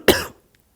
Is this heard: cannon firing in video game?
no